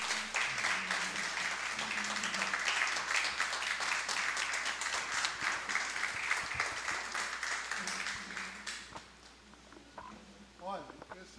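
Applause at a Rotary Club of Recife tribute fills the room as a dense, sustained clatter of many hands, fading toward the end, with voices talking under it.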